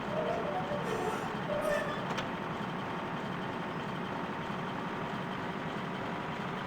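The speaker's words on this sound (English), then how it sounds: "And we want to turn the harvester on." A combine harvester engine drones steadily in Farming Simulator on the Westbridge Hills map, a continuous low mechanical rumble that holds at an even level throughout with no voices.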